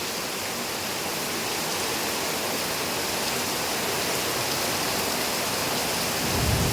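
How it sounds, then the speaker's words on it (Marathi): Heavy monsoon rain pours down steadily, a dense, even hiss of downpour close by with no voices, holding constant and swelling slightly louder toward the end. "हा पाऊस खूप पडतो मोठा"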